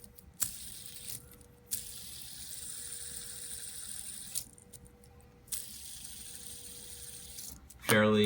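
A plastic fidget spinner, the 7-Eleven kind, whirring steadily in a soft, close hiss, with faint handling knocks and a louder clatter near the end, no talk.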